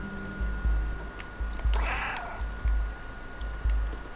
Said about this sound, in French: Attends, on va encore miauler.